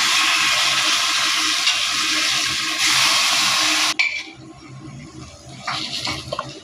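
Hot tempering poured into ridge gourd dal gives a loud, steady hiss and sputter for about four seconds, which then drops to faint crackles and light clinks.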